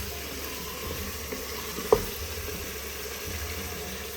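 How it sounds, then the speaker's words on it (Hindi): Bottle gourd pieces frying in a pan, a steady soft sizzle with one brief clink of a utensil partway through. "अभी मैं इसको अच्छे से भून रही हूँ।"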